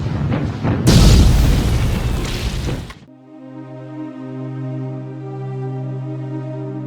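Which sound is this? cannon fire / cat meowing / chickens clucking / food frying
cannon fire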